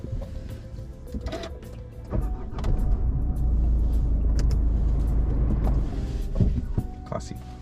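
A car near Flinders Pier, a historic dive site in Melbourne, gives off a steady low rumble that swells and holds for several seconds, with faint voices around it.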